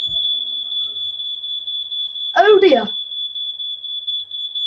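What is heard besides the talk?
smoke alarm going off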